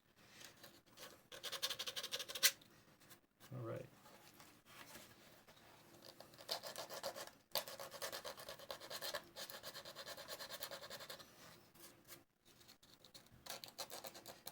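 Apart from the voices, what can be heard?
sanding a 3D printed part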